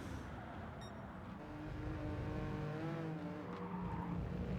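A race car engine in Gran Turismo 7 revs hard and steady, its pitch climbing and dipping as it holds high revs, loud and close with no talking.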